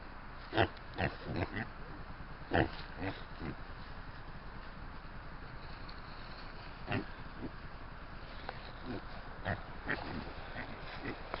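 Pigs by the River Isla in Scotland give short, scattered grunts and oinks over a steady low background, with a person talking at times.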